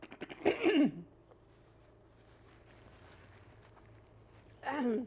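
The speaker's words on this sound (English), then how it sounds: "Go ahead if you need a cough." A couple of short, harsh coughs, one near the start and another at the end, separated by a quiet stretch of low background noise.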